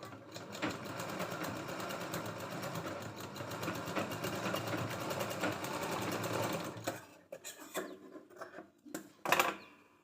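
A sewing machine runs steadily, stitching a katori blouse for about seven seconds, then breaks into short, uneven bursts of stitching with pauses between them, ending in one loud final burst.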